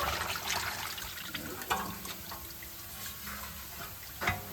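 Transmission fluid drains from the pan of a 2012 Chevrolet 1500 WT 4.3 with a 4L60E transmission, splashing and trickling in a steady liquid patter with a few sharper drips and splats.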